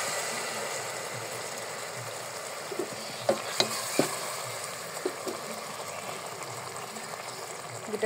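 Chicken biryani masala sizzles and fries steadily in a pan, a close continuous crackling hiss with a few sharp clinks of a spoon against the metal, and a voice speaks quietly at times.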